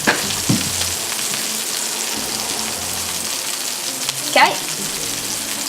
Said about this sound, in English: pop them on the pan so they start sizzling up and the flavour starts getting out